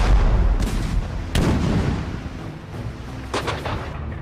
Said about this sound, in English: the British answer with a barrage only the world's most powerful empire could muster